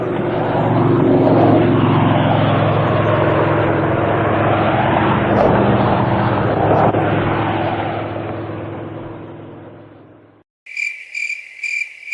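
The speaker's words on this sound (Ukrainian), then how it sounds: "звучить літак." A steady aircraft engine drone passes overhead, rising and falling in pitch as it flies by, then cuts off before a short electronic chime.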